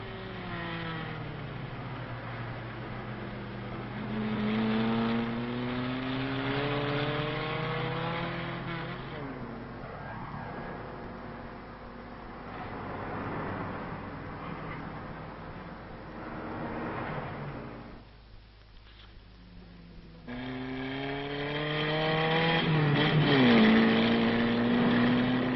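A car balanced on two wheels by a stuntman on a 1965 road drive near Gex, its engine revving in rising and falling sweeps with brief tire squeal, recorded with the muffled, narrow tone of old film sound.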